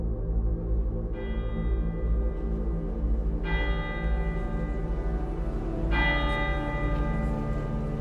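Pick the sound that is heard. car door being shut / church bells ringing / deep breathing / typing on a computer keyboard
church bells ringing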